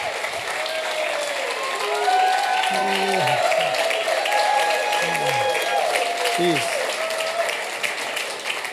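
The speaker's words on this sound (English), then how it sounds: "They didn't clap that loud for me." Audience applause for a storyteller at a live story show, loud sustained clapping from a crowd filling the room, with a few voices calling out over it.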